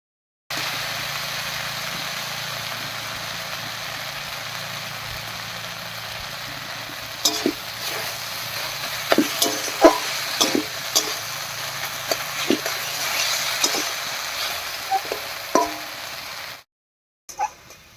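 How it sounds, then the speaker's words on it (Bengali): Taro (kochu) flowers cook in a pan with salt and turmeric, a steady sizzling hiss with scattered small pops and crackles that grow busier partway through, then stop abruptly. "এবারে বেশ কিছুক্ষণ রান্না করে কচুর ফুলটাকে একেবারে গলা গলা করে নেব"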